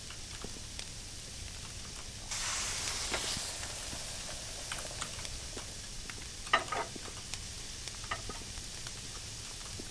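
Red and green peppers sizzling in a hot pan at a kebab shop, a bright burst of frying hiss starting partway through with scraping stirs and clinks, soft and close, no talking.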